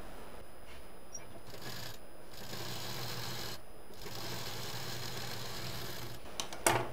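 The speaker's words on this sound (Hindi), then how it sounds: "जिप को यहाँ पर इस तरह से सिंपल रख के सिल देंगे।" A sewing machine runs steadily while stitching a zip onto a patchwork shoulder bag, a close, low continuous whir broken by a few brief stops, with a small clatter at the end and no voices.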